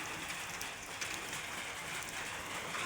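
Light drizzle falls over a cucumber field, a steady soft hiss of fine raindrops continuing evenly throughout with no voices.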